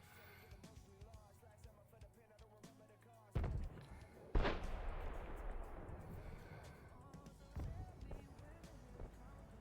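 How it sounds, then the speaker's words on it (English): Tank cannon shots in an online tank battle on the Prokhorovka map: two sharp, heavy blasts about a second apart, then a further softer report, all under a busy game mix with a commentator's voice. "Couple shots coming in at the Vanguard there, targeted."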